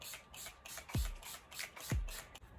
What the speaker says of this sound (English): I'm going to be taking my Urban Decay setting spray and sealing everything in